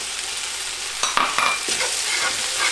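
Peanuts and scallions stir-frying in a hot wok for kung pao chicken: a constant sizzle broken by a few sharp scraping stirs near the middle, close and fairly loud, with no voices.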